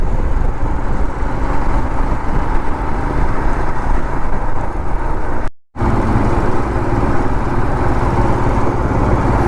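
Steady engine drone of a Royal Enfield motorcycle riding through city traffic near Hyderabad, loud and continuous for the whole stretch, broken only by a brief dropout partway through, with no talk.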